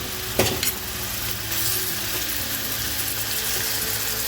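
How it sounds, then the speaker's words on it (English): Horseradish-crusted Chinook salmon fillets pan-fry without an iron skillet. A couple of clattering knocks are followed by a loud, steady sizzle that holds throughout, close up, with no talk. "So these will be pan fried for 2 minutes."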